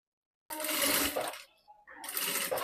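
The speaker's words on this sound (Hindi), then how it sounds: "तो मैं यहाँ पे इसको इस तरीके से अब डबल से सिलाई लगा रही हूँ।" A sewing machine runs in two short bursts, double-stitching a blouse belt for a Sabyasachi-style designer blouse, with a brief near-silent pause between runs, close and fairly loud with no talk.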